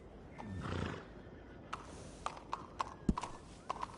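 Horse hooves clip-clop in a loose, uneven rhythm in the video game Red Dead Redemption 2, with a short whinny early on; a faint voice murmurs beneath.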